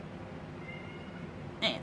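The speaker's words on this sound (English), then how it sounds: "excuse my cats. They're having a moment." A house cat lets out one short, sharp meow near the end, close and fairly loud after a quiet stretch of room sound.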